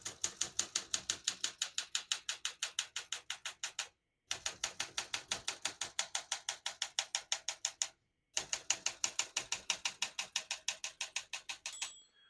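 A 1966 Olympia SM9 manual portable typewriter clatters in rapid, even keystrokes, pausing twice briefly, then ends with a small bell-like ding marking the margin.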